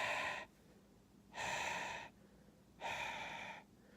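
A voice imitating heavy breathing, three loud, hoarse, rasping breaths in a slow, even rhythm, each lasting under a second and separated by quiet pauses.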